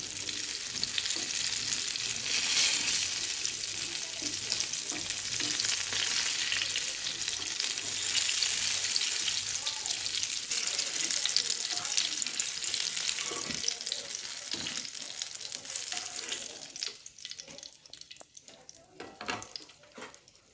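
Eggplant frying in oil, a loud continuous sizzle and crackle that holds steady before thinning out toward the end, with some faint handling sounds. No speech.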